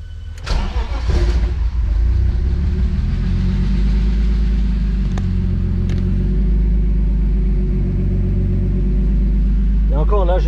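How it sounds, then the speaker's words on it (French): A BMW E30 325i with a turbo swap and a faulty wiring harness cranks and starts, then settles into a deep, uneven, pulsing idle that wavers in pitch; a voice speaks briefly near the end. "quand on démarre la voiture, on va le voir tout de suite"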